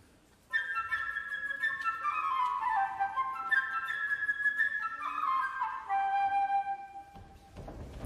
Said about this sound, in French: pour l'oiseau qui est le grand ami de Pierre, ce sera la flûte légère et gazouillante